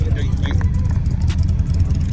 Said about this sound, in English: This bike sound like a damn car